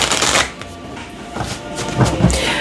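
Tarot cards being shuffled by hand, giving a run of soft, uneven riffling and tapping bursts at close range, with no voice over them.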